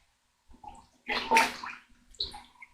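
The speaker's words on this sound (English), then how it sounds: "Just wash my hands." Hands being washed under a running kitchen tap while cooking: short bursts of splashing, gurgling water, close and fairly quiet, with no talking.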